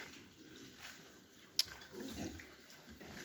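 Low, soft grunting from piglets murmurs through a noisy background, with one sharp click near the middle.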